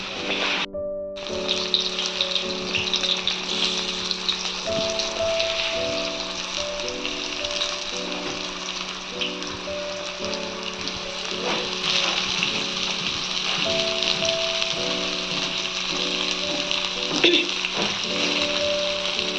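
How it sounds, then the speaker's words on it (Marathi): Pieces of suran (elephant foot yam) fry in hot oil for a Maharashtrian vegetable dish, a steady close crackling sizzle running throughout with a low hum beneath. "सुरण आपले मस्तपैकी फ्राय होत आहेत."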